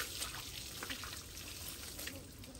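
Water splashing and trickling over cows during washing, a continuous broadband wet hiss with small splashy surges, fairly close and steady, without talk.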